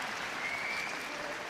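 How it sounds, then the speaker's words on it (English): A crowd applauds at the Crufts 2022 agility British Open final, a brief, distant, even patter of clapping heard faintly in a large hall. "let's give a special round of applause to Ashley and Epic"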